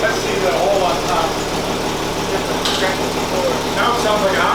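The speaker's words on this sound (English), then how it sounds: "Now it sounds like a hot rod engine." A loud, raw idling car engine with the muffler removed rumbles steadily, a coarse throaty drone that stays constant throughout, with faint background noise.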